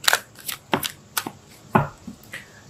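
A deck of tarot cards is shuffled by hand in close, crisp bursts of riffling and snapping, with about half a dozen quick flurries separated by short pauses.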